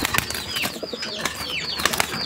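Pigeons flap their wings in short bursts at a pigeon seller's coops, with soft fluttering and a few bird calls over steady background noise.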